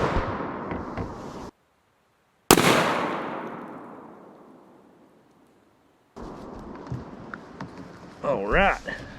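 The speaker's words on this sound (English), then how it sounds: "First time this gun's ever been shot" A Mossberg 510 Mini shotgun fires a Federal field load outdoors at a target 15 and a half yards away: a single sharp, loud blast with a long fading tail, with people talking before and after.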